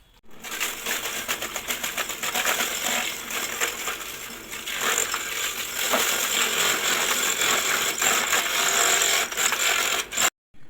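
Vegetable chopping machine with sharp blades, used to shred greens for chicken feed, running at about 1400 rpm; a steady dense rattling and clattering whir continues loudly for about ten seconds, then cuts off abruptly near the end.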